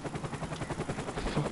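Rapid gunfire in Modern Warfare Remastered during an online multiplayer match, dense overlapping shots and rattling bursts blending into a continuous busy roar of combat with no clear pauses.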